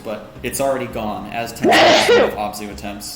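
A single sharp sneeze bursts out during a Spelunky 2 race stream, loud and close, with someone talking before and after it.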